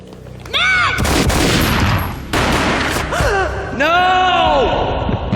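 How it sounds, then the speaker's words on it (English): Gunfire in the Max Payne video game, loud booming shots and bursts that fill most of the stretch, mixed with music and voice-like sounds in the game's soundtrack. "A gunshot boomed and she fell down in slow motion."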